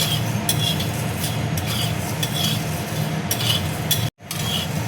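Spices and garlic dry roast in a pan on a gas stove, with a dense steady crackle and scraping as they are stirred, broken by a few sharp scrapes and one brief dropout near the end.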